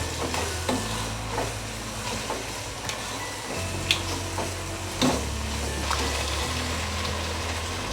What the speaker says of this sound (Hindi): अब इसमें गाजर ऐड करेंगे, उसको थोड़ी देर के लिए फ्राई करेंगे।